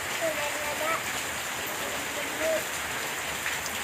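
Steady rain falls outdoors on a family gathering, a constant dense patter and hiss, with faint voices in the background.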